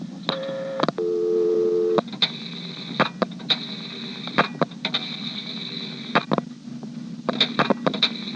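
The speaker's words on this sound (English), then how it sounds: "I'm now going to dial 67013 and let the director for the Centrex time out." Dialing on a 1973 Centrex telephone exchange in Dale City, Virginia, with a steady tone giving way to a string of sharp clicks and brief tone bursts as the director times out, fairly quiet and without voices.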